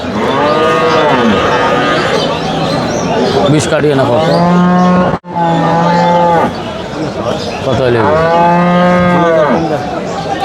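Cattle at the Aftabganj cattle market, with Friesian cross and Sahiwal cows and calves, give repeated loud, drawn-out moos close by, while people talk and haggle throughout.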